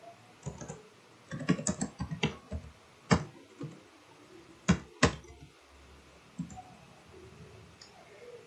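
Numbers being typed on a computer keyboard, then the enter key pressed: a burst of close, crisp key clicks, a pause, and a few sharper separate strikes, with quiet gaps and no talking.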